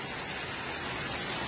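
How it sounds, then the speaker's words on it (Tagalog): Heavy rain pours down outdoors during a flood, a dense continuous hiss of drops on surfaces, steady and fairly loud with no talking. "Ang lakas ng ulan, oh."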